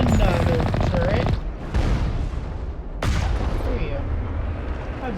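Turret gunfire in Mass Effect: Legendary Edition, loud continuous rattling bursts with booming impacts, one burst cutting off and another starting, with someone talking over it.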